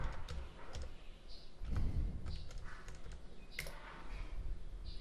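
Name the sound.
typing a password on a computer keyboard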